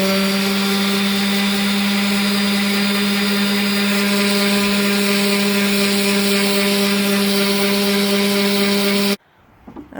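A power sander grinds steadily across wood for a homemade skateboard halfpipe, loud and continuous with a constant droning hum, then cuts off abruptly near the end, leaving brief quiet with a few small knocks.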